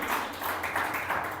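A church congregation applauds, a dense wash of clapping hands that rises and falls in short waves over a brief moment, moderately loud.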